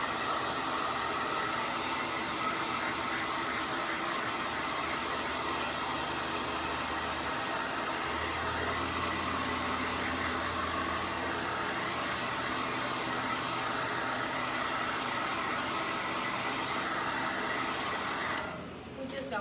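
Bumblebee cake decorations are dried with a hair dryer, whose loud, steady airy roar runs close and unbroken, its pitch shifting slightly partway through before it stops at the end.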